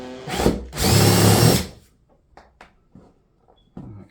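A power drill whirs loudly in two bursts, a short one then a longer sustained run, drilling into a Brooklyn PK13 kayak, followed by faint handling clicks and taps.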